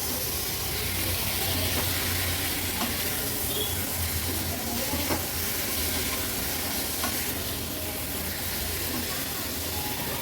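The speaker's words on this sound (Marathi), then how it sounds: "ह्या साफ केलेल्या माकळ्या ॲड करूया. व्यवस्थित मिक्स करून घ्यायचे आहेत वाटणामध्ये." Cleaned squid frying in masala paste over a medium flame, a steady loud sizzle and hiss with soft scraping stirs throughout, no talking.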